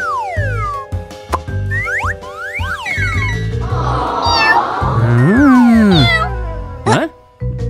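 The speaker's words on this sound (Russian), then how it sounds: "Кто сказал мяу?" A cartoon cat meows repeatedly in a children's animated show, bright sliding meows and squeaky calls mixed with springy boing effects and playful music, one long drawn-out meow in the middle.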